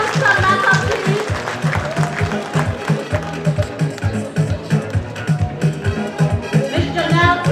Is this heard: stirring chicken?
no